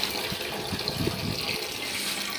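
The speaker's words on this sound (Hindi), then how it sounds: "इसमें पानी भर रहे हैं" Water gushes and splashes into a newly installed bathroom toilet cistern as it fills, a steady close rushing flow with some gurgling, and no talking.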